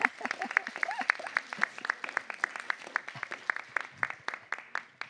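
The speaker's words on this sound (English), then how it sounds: "no one's supposed to get a bigger applause than me" Audience at a city council meeting claps steadily, a moderate crowd of sharp individual hand claps blending into continuous applause that holds throughout.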